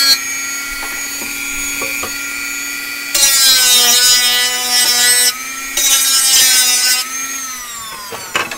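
A hacksaw cuts in steady rhythmic strokes, close and loud, with a ringing metallic tone, pausing briefly between bursts of sawing before trailing off.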